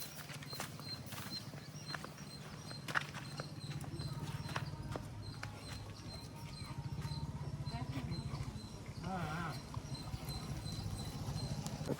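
Cattle being driven one by one after watering on a Tamil village farm, hooves clopping in a steady walking rhythm close by over a continuous low hum, with voices faintly in the background.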